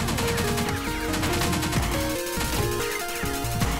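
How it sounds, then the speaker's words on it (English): Explosions and gunfire from the video game Pineapple Smash Crew form a dense, continuous barrage of loud blasts and rapid shots, with no pauses across the short stretch. "A lot of explosions. Way too many explosions."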